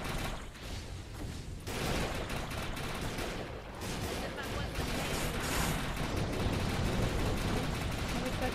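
Gunfire sprays at a big bug during a co-op mission in Defiance, dense and continuous bursts of shooting at moderate level with voices talking over it throughout.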